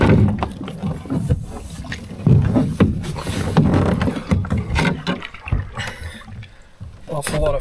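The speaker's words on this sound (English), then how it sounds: "Now for an extremely brief paddle and on to the main event." Canoe paddling on a pond during a fall solo trip: paddle strokes and water swishing against the hull, close and uneven, with occasional knocks and drips, and a voice is heard speaking over it.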